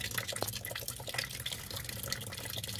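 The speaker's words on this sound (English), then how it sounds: "Draining the radiator underneath the bottom of the radiator, passenger side." Coolant draining from beneath the passenger side of a 2009 Volvo C70 radiator, a faint, continuous trickle and patter of liquid under a low background hum.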